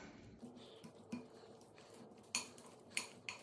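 Salad ingredients with olives, lemon juice and olive oil being mixed in a bowl, giving soft clinks and scrapes of utensils against dishware, a few sharper taps standing out from quiet, close handling.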